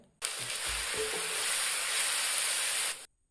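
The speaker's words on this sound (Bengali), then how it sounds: "পেঁয়াজটা ভাজা হয়ে আসলে এতে আদা ও রসুনের পেস্টটা দিয়ে ভালো করে কষাতে হবে" Chopped onion with ginger-garlic paste sizzling steadily in hot mustard oil, a loud, even frying hiss lasting about three seconds with faint stirring thumps near the start, no voices.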